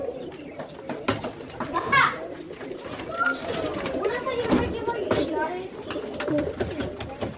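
Soft pigeon coos sound intermittently amid background chatter and children's voices, with other faint bird calls mixed in.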